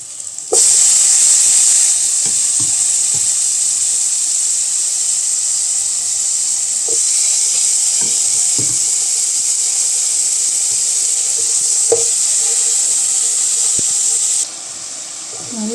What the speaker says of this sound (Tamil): நம்ம வேக வச்ச இந்த தாமரை தண்டுமே அதில் போட்டு நல்லா வதக்கிக்கலாங்க.